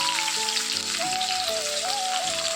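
Onion and garlic paste sizzling in hot oil in a home kitchen pan, a steady crackling hiss that continues quietly beneath a soft melodic music background.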